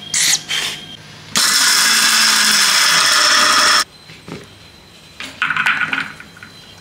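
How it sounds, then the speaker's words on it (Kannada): A mixer grinder pulverizes roasted peanuts, gram and grated coconut into powder in one steady, loud whirring burst of roughly two and a half seconds, with quieter handling noises before and after. "ಕಡಲೆ ಮತ್ತು ಕೊಬ್ಬರಿ ತುರಿ ಇತ್ತಲ್ವಾ ಅದನ್ನು ಹಾಕ್ಕೊಂಡು ಗ್ರೈಂಡ್ ಮಾಡ್ಕೊಂಡು ಪೌಡರ್ ಮಾಡ್ಕೊಂಡ್ಬಿಡ್ಬೇಕು"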